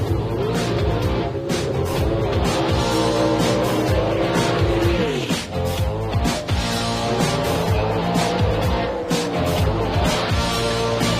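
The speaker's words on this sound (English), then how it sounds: "The gorgeous Corvette Nitrous Slammer of Carl Moyer." A Corvette Nitrous Slammer race car roars loudly and continuously, its engine note rising and falling through rapid gear changes, with tire squeal mixed in, close and dense throughout.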